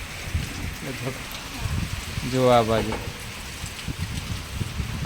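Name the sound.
rain falling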